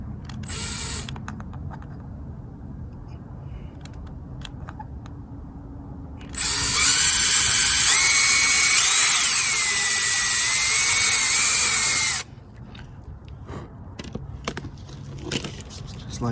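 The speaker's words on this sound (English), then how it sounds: "first we're gonna drill holes into this corner right here" Power drill boring holes into a corner of an aftermarket front splitter on an Acura RSX, one loud continuous whine of about six seconds with a rising pitch wobble, surrounded by quieter handling noise and talk.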